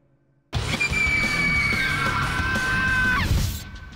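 A woman's long, shrill scream in a ghost story reenactment, starting abruptly after near silence and holding for about three seconds before breaking off into fading noise.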